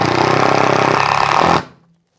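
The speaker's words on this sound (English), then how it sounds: "Install with 2 screws." Power drill driving screws into a snow bracket on asphalt shingles, a loud continuous whirring buzz close by that cuts off abruptly after about a second and a half.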